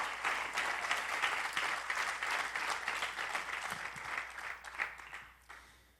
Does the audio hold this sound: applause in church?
yes